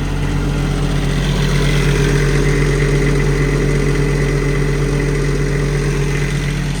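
An EnPak diesel engine, a combination hydraulic pump, air compressor and generator mounted on a 2016 Kenworth T270 truck, idles with a steady, loud, even drone that holds unchanged throughout.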